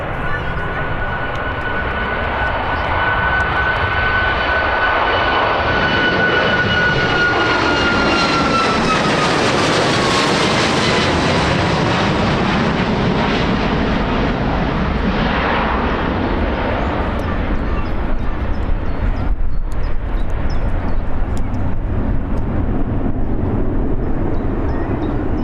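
A fixed-wing airliner departs Birmingham Airport, its jet engines building to a loud, sustained roar with a rising then falling whine as it passes and climbs away, steady and broad throughout.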